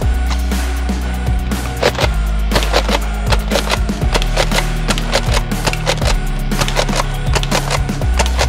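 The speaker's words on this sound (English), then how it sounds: "The AK47 will pull this off!" AK47 rifle fire in a shooting video game, a loud, steady stream of rapid rattling shots over a constant low mechanical drone, continuing without pause.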